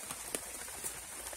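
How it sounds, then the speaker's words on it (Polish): Steady light rain on a cold day, a soft continuous patter with scattered drops tapping close by, no voices. "No i tak, i pada, i pada, i pada."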